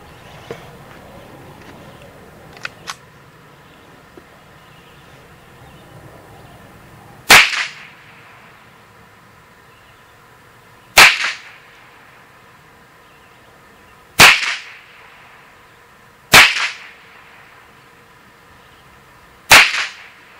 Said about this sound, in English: Now shooting at the left target with CCI AR Tactical, and the right target with Federal Target Grade Performance.